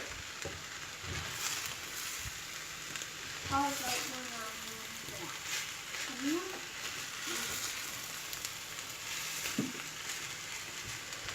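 Egg mixture for a frittata sizzles softly and steadily in a frying pan, a faint hiss running throughout while a voice speaks briefly in the background.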